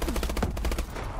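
Rapid automatic turret gunfire in the video game Call of Duty: Advanced Warfare, a dense burst of repeated shots rattling steadily for about a second before tapering off, loud and close.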